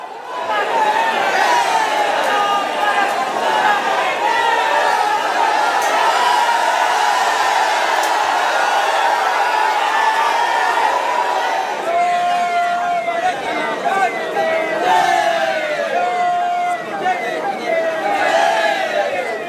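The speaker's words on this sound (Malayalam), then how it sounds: "പ്രധാനമന്ത്രി എത്തിയപ്പോൾ പ്രവർത്തകർ ആവേശത്താൽ ഇളകി മറിഞ്ഞു" A large crowd of party workers cheers and chatters along Prime Minister Modi's roadshow in Palakkad, a dense, continuous roar with whistles and shouted voices, and a siren-like wail rising out of the din partway through.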